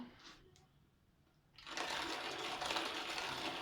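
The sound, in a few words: hand-cranked coffee grinder grinding coffee beans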